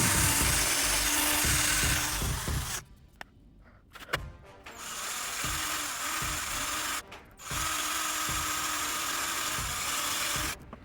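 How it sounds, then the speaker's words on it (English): A power drill bores a hole through the middle of a hardened paper Beyblade top, a homemade Meteo L Drago. The loud, steady grinding whir runs in two long stretches, separated by a quieter pause and a brief dropout. "let's drill a hole in the middle"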